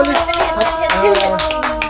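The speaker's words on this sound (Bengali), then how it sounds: "হাততালি দাও" A toddler claps their hands in a quick run of soft, close claps while a voice talks over them.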